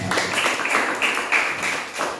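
A class claps for a group of classmates, a brief burst of fairly close, quick applause with scattered hand taps rising and falling.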